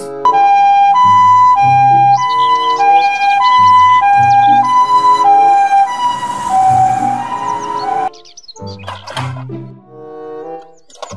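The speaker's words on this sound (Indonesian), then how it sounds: "mobil ambulans." A toy ambulance gives off a loud electronic siren, an alternating two-tone wail repeating close up, breaking off near the end into clicks and short toy sounds.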